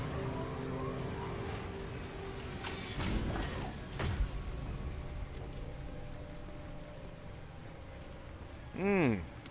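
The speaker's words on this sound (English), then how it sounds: "Lovely rain." Steady rain hisses throughout a level of the video game Mass Effect 2, with a dull thump midway and a rising and falling electronic whine near the end.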